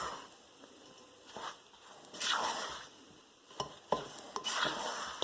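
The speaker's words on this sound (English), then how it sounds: "I'm literally scraping the side, chop chop, scrape the side, chop chop chop." A spatula scrapes the sides of a bowl and chops through sticky sourdough dough. It makes soft, wet squishing and scraping strokes in a few separate bursts, close and fairly quiet.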